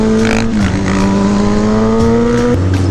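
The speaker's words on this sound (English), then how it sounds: "Look at Zacho's lane splitting on a wheelie." A motorcycle ridden on a wheelie while lane splitting through St. Louis traffic revs loud and close, a sustained engine drone whose pitch dips and then climbs again.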